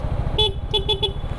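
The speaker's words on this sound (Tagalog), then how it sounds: "Saan ba busina nito?" A motorcycle horn gives one short beep, then three rapid toots, sounding over a steady idling engine rumble during a night ride.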